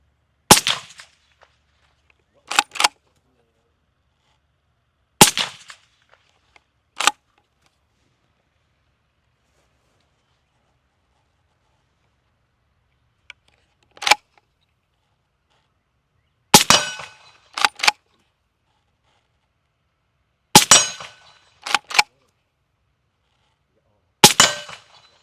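A rifle with a SilencerCo suppressor fires into a dirt berm at an outdoor range: about a dozen sharp, clanging cracks, some in quick doubles or triples, separated by long silent gaps.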